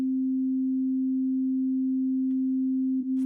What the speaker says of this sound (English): let's go to how to set up isochronic tones